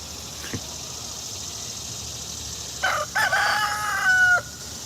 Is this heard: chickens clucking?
yes